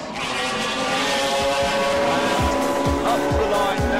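Race cars roar side by side on a circuit, engines climbing in pitch as they accelerate toward top speed, loud and sustained, with a commentator talking over the engine noise.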